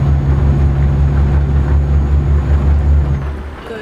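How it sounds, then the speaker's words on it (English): A MAN truck engine in Euro Truck Simulator 2 drones steadily with a deep, slightly pulsating hum, heard from the cab alone without talk. It fades near the end. "I was just listening to this engine sound."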